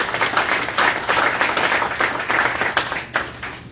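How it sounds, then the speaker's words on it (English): A crowd at a university athletics meet-the-coaches event claps steadily in sustained applause, dense and fairly loud, with a few louder claps standing out throughout. "So give yourselves a round of applause."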